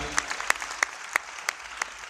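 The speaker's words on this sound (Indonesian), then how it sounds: "Tepuk tangan yang lagi." A congregation at a Pre-Christmas service and church anniversary in Manado claps in a sparse, rhythmic way, with a few loud distinct claps standing out at regular intervals over a faint background.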